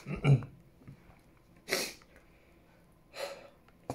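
A person sneezes three times at intervals, each a short sharp burst in a quiet room, with faint breathing between them.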